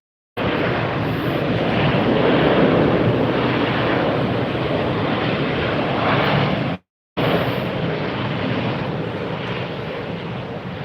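An American Airlines airliner in oneworld livery passes at Tampa Airport with a loud, broad jet roar and wind rush that cuts out briefly for a moment before resuming.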